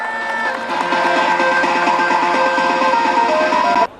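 Applause and cheering for Pritam Singh at an MDRT COT award ceremony in Bilaspur, a dense steady crowd clapping with whoops that starts strong, holds for several seconds, then cuts off abruptly.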